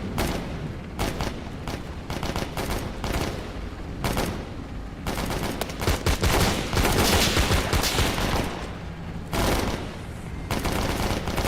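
Gunfire in the VR shooter Tactical Assault VR: repeated loud bursts of close shots, sometimes rapid automatic strings, sometimes single cracks, with short gaps between volleys and no talk.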